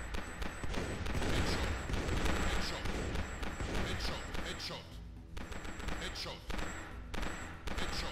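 Bursts of gunfire from the Prohibition 1930 video game, with rapid volleys and repeated loud shots in clusters, briefly dropping off before more firing returns, with game sounds mixed underneath.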